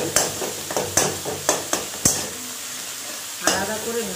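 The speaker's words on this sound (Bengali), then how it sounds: "এবারে এটাকে ভালো করে আমরা ভাজবো, হাই ফ্লেমে এটাকে 2 থেকে 3 মিনিট এইভাবে" Broken-up shrimp frying over a high flame in a pan for Bengali shrimp chops and kofta, with a continuous sizzle punctuated by sharp, regular spatula scrapes and stirs about twice a second.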